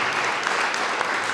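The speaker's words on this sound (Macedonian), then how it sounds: "И моламе еден аплауз за Светлана Мазгаловска Вучетич" An audience at a book launch applauds, a brief, even burst of many clapping hands, close and fairly loud.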